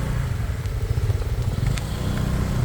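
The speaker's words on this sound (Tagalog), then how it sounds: "kawawa na naman yung motor ko na to. Sa putik." A motorcycle ridden along a narrow, slippery muddy trail toward a waterfall in Famy, Laguna, its engine a steady close rumbling drone with faint crackles over the rough ground.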